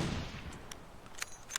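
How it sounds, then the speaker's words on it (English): A single hunting rifle shot in The Long Dark rings out at the very start, its blast fading into a long, quiet decaying echo with a couple of faint ticks after. "We're going to take a shot from here."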